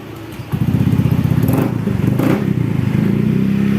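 A 2021 Honda Beat Deluxe scooter engine is restarted and settles into a close, steady idle with a brisk, throbbing putter and slight clatter.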